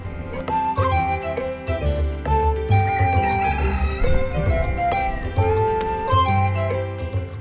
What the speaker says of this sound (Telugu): వాళ్ళిద్దరూ ఇంట్లో కోళ్లను పెంచుకునేవారు.